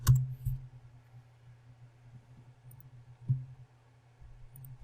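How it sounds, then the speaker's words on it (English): Administrator password typed on a computer keyboard: a few sharp key clicks spaced irregularly over a low steady hum, close and fairly quiet, with no talking. "Type in your administrator password."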